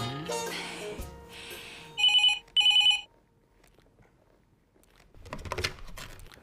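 A telephone gives two short electronic rings, bright and fairly loud, with quieter shuffling sounds before and after.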